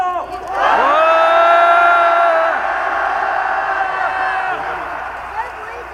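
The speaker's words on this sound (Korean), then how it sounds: "힘차게 박근혜가 들을 수 있도록 함성 질러주십시오!" A large protest crowd at a Gwanghwamun street rally roars in a sustained collective shout, loud and close, swelling quickly, holding for a couple of seconds, then slowly fading.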